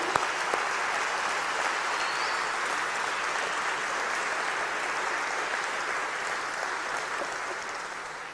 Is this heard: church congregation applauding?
yes